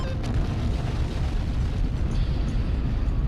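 A Monokuma bomb explosion in the game Danganronpa: Trigger Happy Havoc, a loud, sustained rumbling blast that fills the whole stretch with dense low boom and no quiet gaps.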